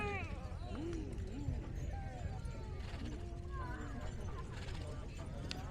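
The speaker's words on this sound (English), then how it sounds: "A beautiful group of 8 horses teamed together." Rhythmic clip-clop of a team of eight horses, including Percherons, on a hard surface at an agricultural show, steady and continuous, with people talking over it and a horse calling briefly.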